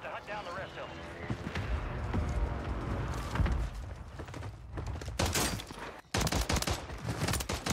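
Bursts of automatic gunfire in the video game Warzone 3, rapid rattling shots under game audio and a voice talking, with sharper, louder volleys toward the end.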